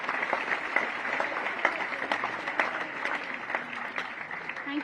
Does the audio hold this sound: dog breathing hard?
no